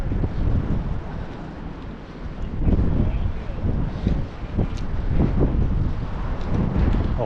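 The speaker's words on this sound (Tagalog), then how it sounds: "Palakas ang hangin, uulan pa yata." Strong wind roars across the microphone while fishing from a boat at sea, a continuous loud rumble with gusts swelling and easing throughout.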